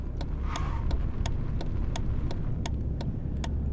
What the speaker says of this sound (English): some sounds are terrible, like the sounds your car makes when it starts and brakes.